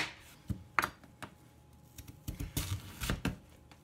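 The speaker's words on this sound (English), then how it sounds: "Cut into round slices." Knife slicing daikon radish into round slices on a cutting board, a series of crisp, irregular taps and chops, close and fairly quiet, with short pauses between cuts.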